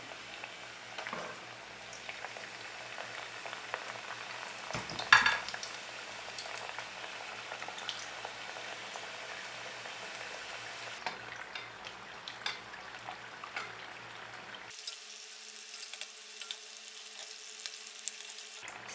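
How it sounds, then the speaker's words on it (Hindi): Mutton keema samosas bubble and fry in hot oil, a steady dense sizzle with a brief clatter around the middle and the frying continuing loud and close to the end, no voices. "तेल गरम हो गया है, अब हम इसमें समोसे डालेंगे।"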